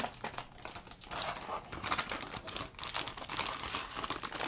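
Crinkly plastic packaging being handled and pulled open on a Ford Transit MK2 model kit: a close, busy run of rustles and crackles with irregular sharp snaps and no talk.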